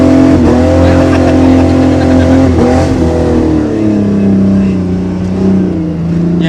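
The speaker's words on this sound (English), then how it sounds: "He's just bouncing off the rev limiter, barely moving." An off-road vehicle's engine bounces off the rev limiter at a park, a loud, close, sustained high-revving drone that stutters at the limiter as the vehicle barely moves.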